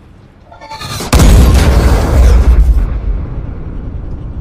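A Panther tank cannon fires in a T-34 war film battle scene: a quiet lead-in, then a sudden heavy boom with a deep rumbling blast that rolls on and slowly fades over several seconds.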